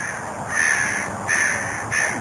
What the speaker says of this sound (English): I can't remember when I've seen such a large flock of crows